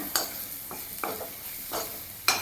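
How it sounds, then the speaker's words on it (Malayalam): Masala spices stirred into golden frying onions in a pan, a low sizzle broken by about five scraping spoon strokes at uneven intervals, close and fairly quiet. "ചെറിയ ഗോൾഡൻ കളറാകുമ്പോഴത്തേക്ക് നമുക്ക് മസാലകൾ ഇതിലേക്ക് ചേർത്ത് കൊടുക്കാം."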